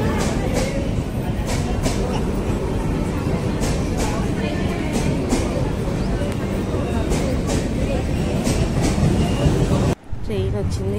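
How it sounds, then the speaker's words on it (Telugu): A train pulls into a busy Indian railway platform with a steady rolling rumble and regular clicking wheel beats, while voices murmur throughout. "ట్రైన్ వచ్చింది, ట్రైన్లో ఎక్కేసామన్నమాట."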